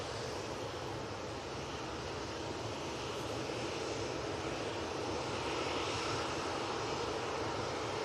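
A fixed-wing airliner's engines roar steadily at Manchester Airport, a broad continuous rumble that holds loud and even throughout without any talk.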